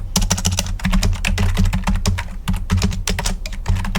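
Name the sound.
typing git commands on a computer keyboard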